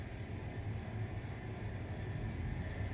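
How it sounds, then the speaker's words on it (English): A train rolls past in the Train Life Simulator game, a steady, continuous low rumble of wheels and cars held at an even level throughout, with no talking. "let's just let this train go past us first"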